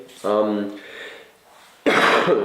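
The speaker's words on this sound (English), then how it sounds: "That's why I'm coughing." A single cough close up, followed after a pause by another rough cough, with a brief voiced sound at the start.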